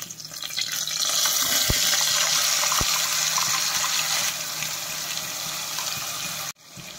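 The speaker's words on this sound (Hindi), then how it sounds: "थोड़ा पानी मैंने जार में डाला है ताकि सारे मसाले मेरे अच्छे से घुलकर निकल जाए" Water pours into a spice grinder jar in a home kitchen while drumstick curry is cooked. It is a steady close splashing fill lasting several seconds, with a couple of sharp knocks and a clunk near the end.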